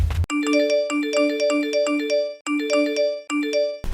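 A phone ringtone sounding for repeated incoming calls, a bright, loud, close melodic pattern of chiming notes that loops several times with brief gaps.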